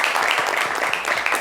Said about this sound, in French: Applaudissez pour Prince.